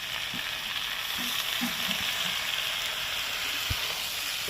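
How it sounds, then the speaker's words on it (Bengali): A spice paste with coriander and cumin powder and a splash of water sizzles steadily in a pan over full flame, with a few soft stirring scrapes and taps beneath the continuous frying hiss. "এবার সামান্য একটুখানি জল দেবো একদম অল্প এবার কষাবো এটাকে"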